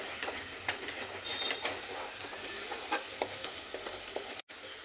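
Masala for a restaurant-style cashew curry frying in oil in a pan, with a quiet, continuous sizzle and scattered soft stirring taps, and a brief dropout near the end.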